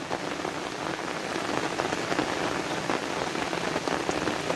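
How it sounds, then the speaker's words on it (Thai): Heavy rain pours steadily, a dense hiss of drops drumming on a surface without pause, loud and close. "ฝนตกแบบนี้"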